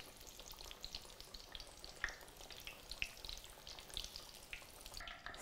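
Kushi age skewers with battered ingredients such as prawns deep frying in hot oil, a steady close crackling sizzle with sharper pops now and then, with no voices.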